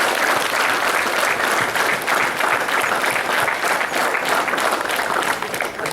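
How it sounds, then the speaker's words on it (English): Sustained audience applause at an Independence Day celebration, many hands clapping together in a thick, even roar that holds steady before easing slightly at the very end. "Let's clap for him."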